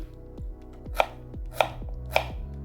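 Zucchini (courgette) cut with a knife on a board, several crisp close chops in an uneven rhythm, three of them sharper and louder, with no talk.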